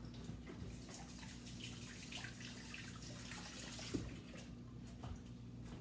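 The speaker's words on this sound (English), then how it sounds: "Just going to give my hands a rinse." Hands rinsed under a running kitchen tap, a steady faint hiss of flowing water with a low hum beneath and a small clunk partway through, no talking.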